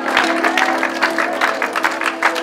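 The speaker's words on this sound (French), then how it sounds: "Est-ce qu'on peut applaudir le Seigneur?" A congregation claps in a church service after a baptism: a burst of uneven applause from a modest crowd, fairly close, with a sustained musical tone underneath throughout.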